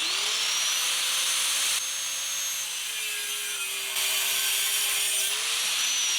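A metal motorcycle tank mount piece for a Virago 250 build being cut, a harsh continuous grinding rasp with a rising-and-falling pitched whine, loud and close with no talk.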